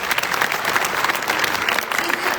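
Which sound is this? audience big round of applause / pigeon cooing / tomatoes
audience big round of applause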